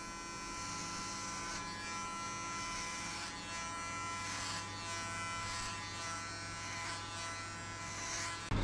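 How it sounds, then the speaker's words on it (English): An electric hair clipper fitted with a number 3 guard buzzes steadily close by as it shaves hair during a buzz cut fade, a continuous high whine with small fluctuations as it moves across the head. "So now I'm going to use number 3 to shave everything off."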